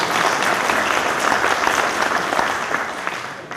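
Steady, loud audience applause filling a conference hall at a French business association's 2014 general assembly, dense uninterrupted clapping throughout with no speech.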